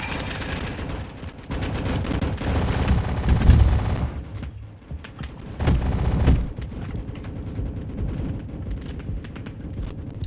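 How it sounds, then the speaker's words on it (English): Gunfire and explosive bursts from the video game Rolling Thunder, loud and dense, with heavy blasts surging around the middle and again shortly after, over a constant busy game soundscape. "I'm being shot at by someone."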